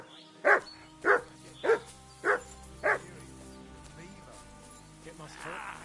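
A dog barks five times in an even rhythm in the video game Kingdom Come: Deliverance II, loud and close, then falls quiet under a low ambient background.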